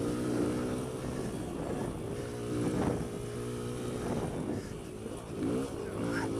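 A Kawasaki KLX140L dirt bike being ridden, its small single-cylinder engine revving up and down in repeated surges, moderately close and steady throughout.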